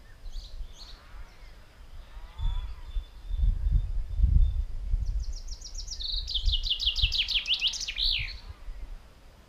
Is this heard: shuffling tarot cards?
no